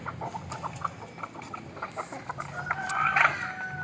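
Native country chickens cluck in short, scattered bursts, with a rising squawk toward the end, close and fairly soft amid quiet background.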